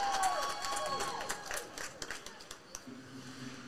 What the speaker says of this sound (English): Langston earning some applause from the crowd with that good save